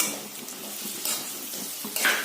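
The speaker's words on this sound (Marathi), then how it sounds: "मिरची तळलेली आहे, त्यामध्ये बटाटा मिक्स करूया" Boiled potatoes being stirred into fried green chilies in a pan over a low flame, a soft sizzle with light scraping and clinks from the spatula, close and steady.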